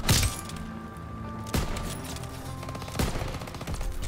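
Gunfire in Call of Duty WW2, bolt-action rifles such as the Kar98 and Enfield, with three sharp loud shots about a second and a half apart over a steady backdrop of game noise.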